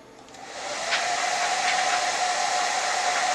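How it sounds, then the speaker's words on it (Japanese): A hair dryer blows air onto the underside of a sheet of paper held level. It switches on and quickly rises to a loud, steady rushing whir with a faint whine, with no talking. "紙を水平にしてドライヤーで下の面に風を当ててみます。"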